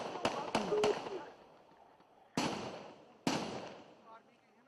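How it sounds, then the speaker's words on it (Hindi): Gunfire between army troops and militants during a terrorist attack on a Gurdaspur police station: three sharp shots in quick succession, then two more single bangs, each cracking loudly and trailing off in an echoing decay. "फायरिंग दोनों साइड से चल रही है"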